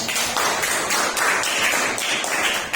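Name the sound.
class clapping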